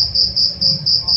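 Crickets chirp in loud, close, regular pulses, about five evenly spaced trills over a low background hum.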